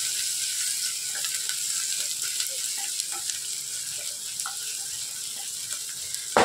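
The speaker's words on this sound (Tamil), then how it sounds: "சேர்த்துட்டு நல்லா வதக்கி விட்டுருங்க பச்சை வாடை போகிற அளவுக்கு." Onions with ginger-garlic paste sauté in a pan for a vegetable kurma, giving a soft, steady sizzle with occasional light clicks and scrapes of stirring close by.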